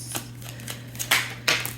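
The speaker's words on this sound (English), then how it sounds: "One more shuffle." Tarot cards are shuffled in a few quick riffling bursts, close and crisp over a low steady hum, with no talking.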